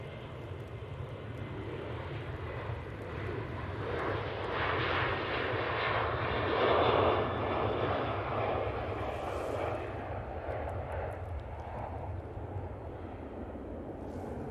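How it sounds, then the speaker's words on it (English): A Boeing 737-800 takes off from Manchester Airport for Alicante, its jet engine roar swelling to a broad peak midway and easing off again, a distant, fairly soft, sustained rumble with no voices. "it's Boeing 737-800 off to Alicante."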